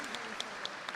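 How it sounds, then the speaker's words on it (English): Brief, fairly faint applause from an audience at a CCNY graduate convocation, with a few distinct claps standing out above a soft, steady wash. "Could you give a round of applause?"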